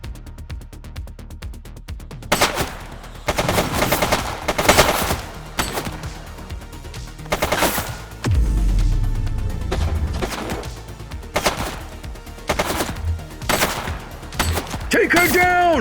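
Rapid gunfire bursts in the police video game The Precinct, loud repeated volleys and single shots with crashes between them, mixed with game sounds and brief shouted voices.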